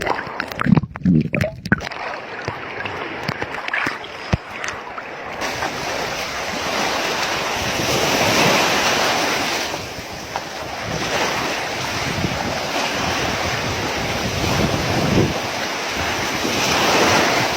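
Sea waves at a beach in Sharm rush and wash steadily onto the shore under strong wind buffeting the microphone, after a few brief knocks and handling sounds at the start.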